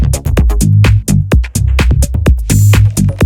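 Minimal tech house bassline, made of punchy, plucky low notes in a bouncy syncopated groove with tight percussive clicks and hats over it, loud and upfront with no vocals.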